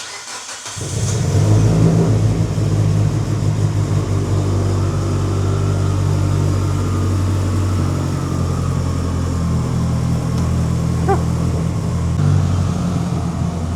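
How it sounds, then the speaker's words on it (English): A Mitsubishi Evo 8 with a stock engine and a large forward-facing turbo cranks and fires up, then settles into a loud, steady, rumbling idle close by, with a faint brief rev near the end and no voices. "we primed the turbo and we're ready to start the car. So start it up"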